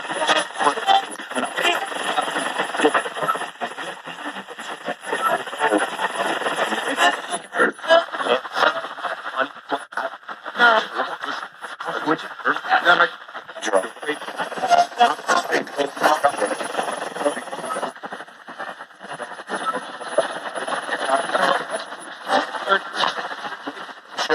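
A custom AM/FM ghost box radio sweeps rapidly through stations, giving continuous choppy bursts of static and clipped broadcast fragments that stay loud and steady throughout, with people talking now and then.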